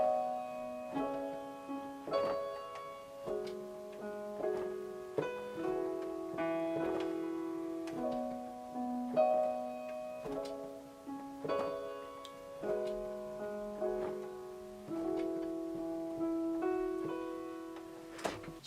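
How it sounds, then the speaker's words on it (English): Soft keyboard chords of a worship song change in a steady, looping progression, each chord struck and held, with faint clicking percussion ticking along beneath. "what you heard was the chord progression"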